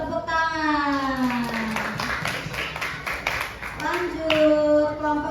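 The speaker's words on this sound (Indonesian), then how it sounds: "Tepuk tangan." Children in a classroom clap their hands in a short burst of applause lasting a few seconds, with voices sounding over and around it.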